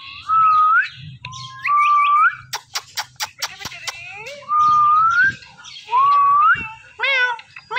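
Indian Ringneck parrot, a pet, giving loud, close, rising whistled calls and sharp chirps in short bursts separated by brief pauses, with quick clicking trills between them.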